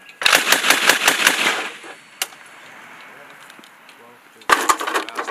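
M2 .50-caliber heavy machine gun firing a rapid burst of about ten loud shots during a Marine live-fire exercise, then a single shot and a pause before another burst starts; voices talk between the bursts.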